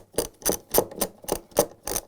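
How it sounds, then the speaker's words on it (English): A 10mm socket wrench ratchets as it tightens washer tub bolts on a Samsung washer, giving seven or eight evenly spaced, close clicks in quick rhythm. "to tighten those bolts using the 10mm socket wrench"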